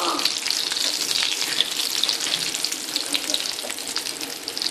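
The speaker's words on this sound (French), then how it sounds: "Il faut procéder sur feu assez vif, hein, pour pas que les pommes de terre s'éparpillent dans la poêle." Potatoes frying in a pan over fairly high heat for banatages, a steady close sizzle with crackling bursts throughout, no talking.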